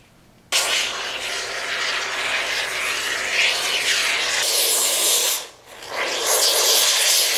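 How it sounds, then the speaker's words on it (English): Great Stuff expanding foam sprays from the can into a box for an archery target, a loud, close, continuous hiss that starts abruptly, dips briefly near the end, then resumes. "everybody just got done spraying all the great stuff inside of the box"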